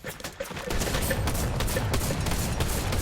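A jump shotgun fires in Fortnite, a rapid fusillade of loud blasts mixed with game-fight noise that starts after a short quieter lead-in and stays dense to the end.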